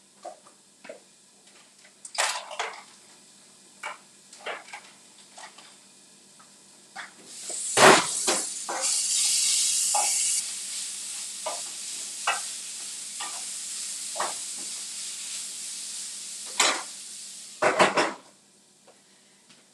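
Mustard scraped and scooped with a spatula into a small container during a honey mustard chicken cooking demo, giving soft scraping and tapping sounds with a longer smeary stretch in the middle, fairly close and without talk.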